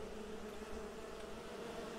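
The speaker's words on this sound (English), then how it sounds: "Catch all the bees!" Bees buzz in the fantasy video game Enderal, a steady, low, droning hum that continues unbroken and fairly faint, with no talking.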